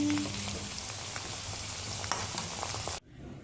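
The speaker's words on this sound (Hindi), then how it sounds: "कटहल हो रहा है फ्राई, बहुत ही देर से फ्राई हो रहा है।" Jackfruit fries in a pan with a soft, continuous sizzle and scattered faint pops for about three seconds, then cuts off abruptly into quieter room noise.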